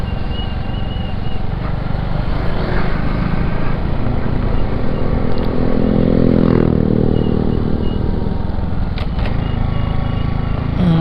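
A motorcycle engine-brakes along a twisty mountain road, a loud, continuous low drone with steady mechanical clatter and slight shifts in pitch as the revs fall.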